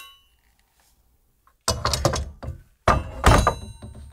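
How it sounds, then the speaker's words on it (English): Sword blades swish and clang in two quick bursts of bright metallic scrapes and rings, close and loud after a near-silent start. "Can I just get a sweetener of the blades like zushing a little bit after she grabs it?"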